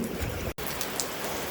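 Steady rain pelting a phone screen during a thunderstorm, a dense close hiss of drops with a brief cut near the middle, no voices.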